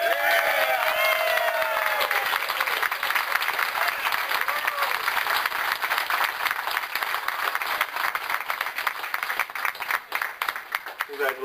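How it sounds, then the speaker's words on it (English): A crowd applauds and cheers for the first-place winner of a bikini contest, steady clapping that runs for several seconds with some talk mixed underneath. "how about a round of applause for our first place winner?"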